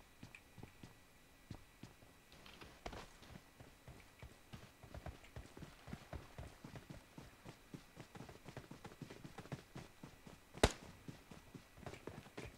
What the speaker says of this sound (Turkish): Can, birileri var. Ayak sesi